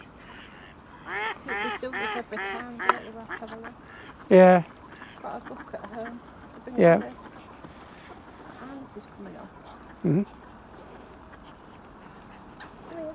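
Ducks and geese, including mallards, quack in a quick series of calls, followed by louder honks spaced out over a quiet outdoor background at a freshwater lake, Hornsea Mere, with a few words spoken.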